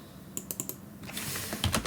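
Someone types a note on a computer keyboard, a quick run of close, crisp key clicks in an irregular rhythm that grows busier toward the end.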